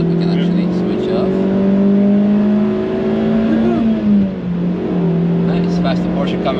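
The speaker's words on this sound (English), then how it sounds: "Nice, faster Porsche coming in." A Porsche sports car on the Nürburgring drones close by under a steady engine tone, its pitch dipping briefly as it passes, while people talk over it.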